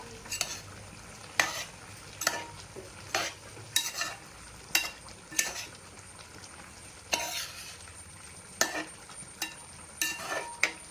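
Chicken cooks in a pan with a low, steady sizzle, and a spoon scrapes and knocks against the metal in repeated stirring strokes about once a second, close and clear with no voices.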